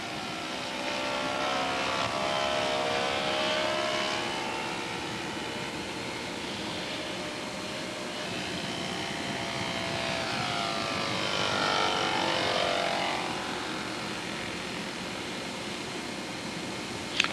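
A lightly loaded scale model airplane flies in gusty wind at a Top Gun competition with full flaps; its propeller engine drones steadily throughout, swelling and sweeping in pitch as it passes closer around the middle.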